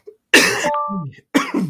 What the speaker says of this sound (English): I'm coughing, guys.